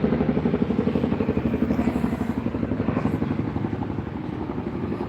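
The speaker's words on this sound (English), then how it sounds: "Now there's a helicopter." A helicopter thuds overhead, its rotor chop loud and steady with a rapid, even pulse throughout, and no voices.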